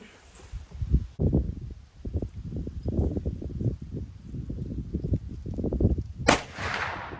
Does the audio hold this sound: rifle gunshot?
yes